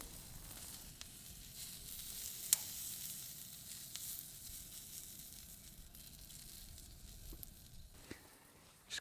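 Asparagus spears cooking on a barbecue grill give off a soft, steady sizzle, with a few sharper crackles and pops coming through now and then.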